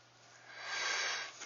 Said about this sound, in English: Let my pencil just kind of sweep across the paper.